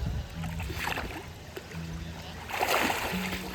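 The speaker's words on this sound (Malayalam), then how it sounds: "ഇവിടെ നിന്ന് അവിടം വരെ ഞാൻ നീന്തും കേട്ടോ" Someone swims in the Thavakkal river at Vithura. Soft, scattered water splashes and paddling sounds come faintly from nearby, over a quiet outdoor background.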